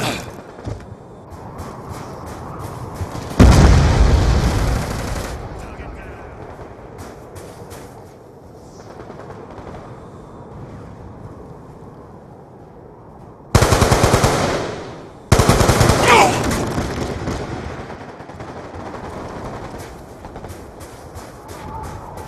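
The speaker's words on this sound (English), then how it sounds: "hostile death machine spinning up" A Death Machine minigun in Black Ops 2 multiplayer roars in dense, rapid bursts: one long burst early, then two more after a quiet stretch, each loud and continuous over a low rumbling background.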